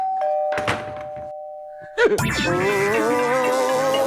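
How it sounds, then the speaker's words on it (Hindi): A doorbell rings indoors with a sustained electronic chime tone, followed by a louder burst of ringing tones that carry on steadily; a few faint background noises sit under it, with no clear talk. "हाँ, सुन ली भाई, घंटी सुन ली।"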